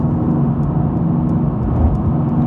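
Steady, loud hum of a car driving in traffic, with a constant engine and road drone and no break across the stretch, while changing lanes behind a Cybertruck.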